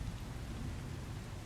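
Steady rain in the video game Once Human, a dense continuous hiss of downpour with a low rumbling undertone, heard alone without any voices.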